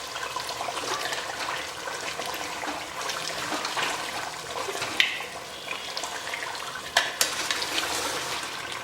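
Mutton seekh kebabs on wooden skewers roast and sizzle in a pan, a steady crackling fry with a few sharper clinks and knocks as they are turned gently.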